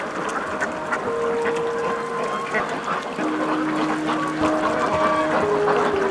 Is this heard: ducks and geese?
yes